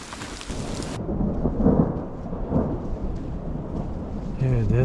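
Heavy rain pours onto a Yosemite mountain trail during a thunderstorm, with deep rolling thunder swelling and fading beneath the steady downpour, close and enveloping.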